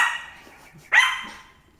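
A single sharp dog bark rings out nearby, preceded by a fading earlier bark, with quiet between.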